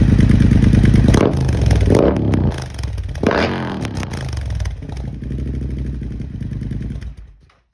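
A supercharged motorcycle engine revs loudly and close by, rising and falling in several sharp throttle blips before settling into a rough idle and cutting off, with no voices.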